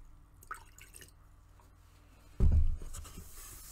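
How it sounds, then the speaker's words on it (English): Water poured into a bowl while preparing soapy bubble paint gives a short, loud splash of about half a second, with only faint handling noises before and after. "first you're gonna pour not a lot of water because you need space for the bubbles"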